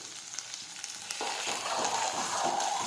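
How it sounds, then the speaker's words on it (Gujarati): Guar beans sautéing in a pan give a steady, soft sizzle and crackle that grows slightly fuller partway through, with no talking. "હવે સાતળી લઈશું"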